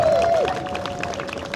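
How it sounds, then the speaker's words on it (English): Crowd applause at the Jorvik Viking Festival, a sustained outdoor patter of many hands clapping at moderate distance, with a whistle-like tone over the start. "A round of applause for David."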